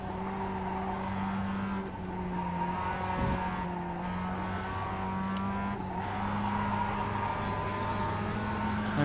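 A Mazda MX-5 race car in the iRacing sim drones steadily through a lap, its engine note rising and falling with throttle, with faint tire squeal beneath and no talk.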